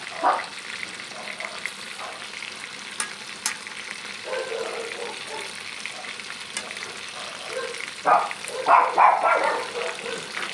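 Marinated pork frying in a pan, a steady sizzle running throughout, with brief louder bursts of noise near the end.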